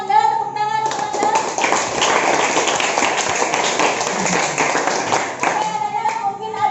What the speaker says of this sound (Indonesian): Terima kasih untuk Anda, tepuk tangan untuk Anda.